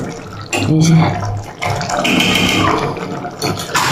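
Hot water is poured into a pan of cooking eggs, making a continuous splashing, gushing pour close by, heard under a speaking voice.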